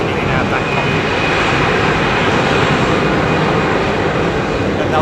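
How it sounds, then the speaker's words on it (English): A CFM-powered Airbus A320 airliner at London Heathrow Airport gives a loud, steady broadband engine roar that holds constant throughout, with a faint voice partly beneath it. "Another CFM powered 320."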